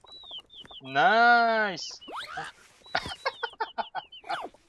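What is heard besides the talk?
chicken clucking in a video game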